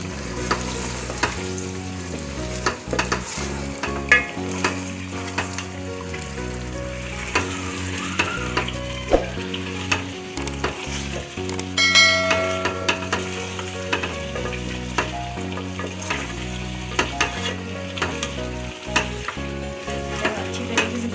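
Meat and potatoes for aloo gosht sizzle steadily in a masala of tomatoes, red chilli powder and garam masala as they are stirred, with a continuous close frying hiss and recurring scrapes throughout.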